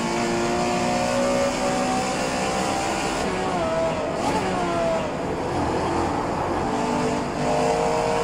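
Porsche 911 Carrera RSR 3.0 engine in the rFactor 2 racing game, a loud continuous race-engine drone with shifting pitch as the car slides and accelerates, steady throughout with no pauses.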